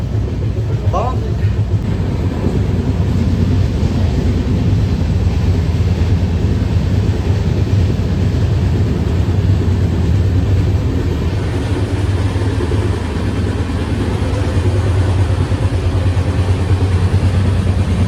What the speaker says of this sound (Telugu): సో స్పీడ్గా వెళ్ళడం మొదలుపెట్టింది బండి, మళ్ళీ 100 దాటింది.